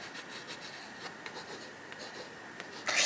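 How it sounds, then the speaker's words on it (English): Pencil scratching across paper in a grid collage journal, a steady soft rasp of close strokes with brief louder scrapes and a sharper scratch at the end. "So a little bit of pencil going on."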